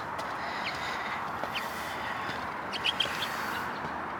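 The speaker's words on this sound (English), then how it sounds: "there's some birds out here, little sparrows." Little sparrows give a few brief, faint chirps outdoors near a performance center's steps, scattered over a steady broadband ambient wash with no talking.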